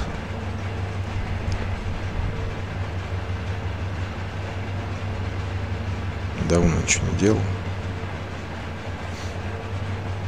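A train running in the Trainz 22 railway simulator game gives a steady, low rumbling drone with a brief louder tonal burst partway through, while someone talks over it.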